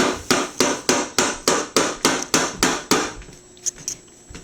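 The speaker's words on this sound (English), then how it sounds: "He's hammering something up for Stringing up peppers" Hammer blows nailing something up to string peppers, about ten sharp, evenly spaced strikes close by, then a pause and a couple of lighter taps.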